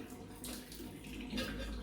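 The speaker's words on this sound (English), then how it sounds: "You kind of hold it there and just tip and let the water spill out" Pasta cooking water tipped out of a pot past a held lid, macaroni inside, spilling and splashing steadily at close range for about two seconds, swelling slightly toward the end.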